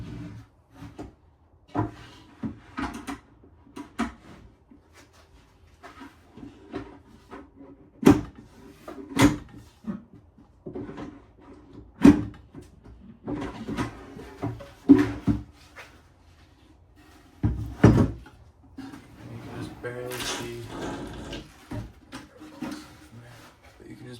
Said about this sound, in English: just to slide the drawer box in and bang it up against there